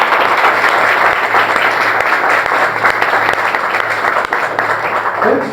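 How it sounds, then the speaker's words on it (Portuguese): Congregation applauding inside a church during a regional ministry gathering, with loud, dense, continuous clapping that fills the room at a steady level throughout. "pode aplaudir o Senhor, por favor"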